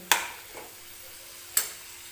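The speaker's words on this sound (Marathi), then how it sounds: "थोडीशी कोथिंबीर टाकून घे त्याच्यावरती बघा छान वास सुटला आहे आणि छान असं मिक्स करून घेऊया" Onion tomato chutney with coriander is stirred in a pan, with two sharp spatula scrapes against the pan over a faint, steady sizzle.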